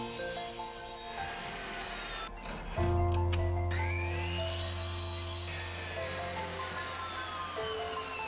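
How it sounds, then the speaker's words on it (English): A miter saw cuts through a front cover piece for a wooden sliding track jig. It is loud and steady, with a strong low motor hum and a whine that starts near three seconds and runs to the end over continuous workshop noise. "Then, cut it using miter saw."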